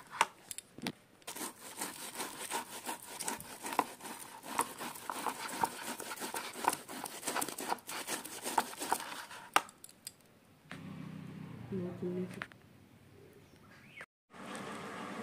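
Scraping and knocking sounds come from peeling the husk off a palm fruit by hand in a home kitchen, steady and fairly close, with a few clunks and a quieter stretch near the end.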